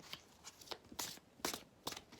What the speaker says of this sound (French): Donc on va faire une coupe avec l'oracle Sacré-Cœur